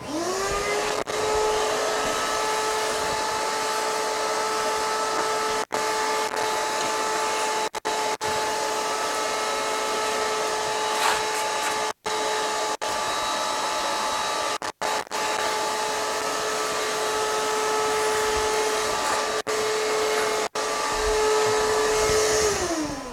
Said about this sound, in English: there's going to be a shop vac coming on for a couple of seconds